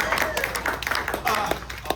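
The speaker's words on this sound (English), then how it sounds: "Applause for Andy, please" An audience at an enterprise AI talk applauds a speaker: short, scattered claps in a room, mixed with a voice talking over them.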